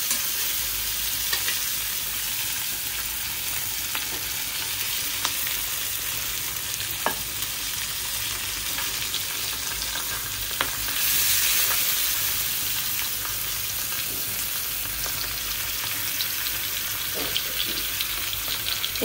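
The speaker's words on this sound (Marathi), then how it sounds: "एकीकडे मी खूप जास्तीचं तेल घालून मासे भाजते" Fish frying in plenty of hot oil in a pan: a dense, continuous sizzle and crackle, close and steady throughout, with a few sharper pops and a brief swell of hissing partway through; no talking.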